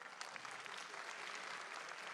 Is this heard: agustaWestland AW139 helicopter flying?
no